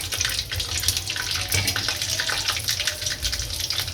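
Peanuts, chili and cumin hit hot oil in a pan for potato pancakes with thecha, giving a loud, continuous, close crackling sizzle that runs the whole time without speech.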